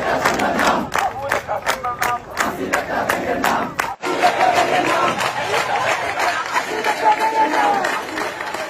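A crowd at a political gathering chanting slogans in loud, rhythmic call-and-response bursts, a brief drop in the middle, then a denser roar of massed shouting voices.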